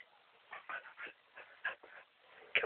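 A dog whimpers and whines in a series of short, high, pleading bursts, fairly close and alone against a quiet background.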